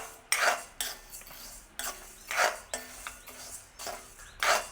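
Horse gram is dry-roasted in a pan and stirred with a metal utensil, making repeated close scraping and rattling strokes in an uneven rhythm with brief gaps between them. No one speaks.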